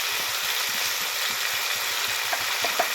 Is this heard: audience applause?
no